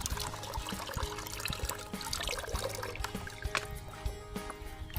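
Water gushes from a 5-metre hose fed by a 12V solar pump lifting to a tank 2 metres high, a close, busy splashing and trickling stream with faint clicks.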